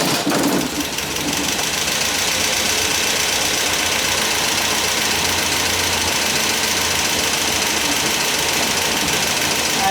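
An MGB Roadster engine under restoration cranks on the starter and catches, then runs steadily at a loud, close idle with an even mechanical clatter for the rest of the stretch.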